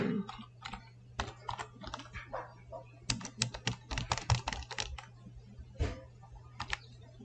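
Rapid typing on a computer keyboard, bursts of quick light clicks at close range with brief pauses between runs, over a steady low electrical hum.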